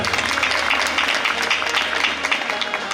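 Audience applause at a Janmashtami devotional dayro at Gadhpur Dham, a dense steady wash of many hands clapping that fills the full stretch at even loudness with some crowd noise mixed in.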